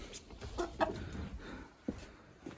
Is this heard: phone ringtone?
no